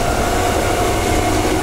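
Interior of a Perth A-series electric train running to Yanchep in daylight: a steady, loud rumble and hum of the carriage in motion with a constant tonal whine, continuous and even throughout.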